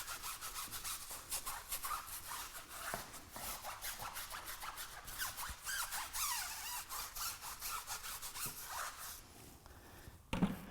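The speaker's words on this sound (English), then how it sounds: "Use the wheel brush. This is nice to give the rubber a scrub" A wheel brush scrubbing the rubber of a car tire, rapid repeated rasping back-and-forth strokes at close range, fairly quiet, with a short knock near the end.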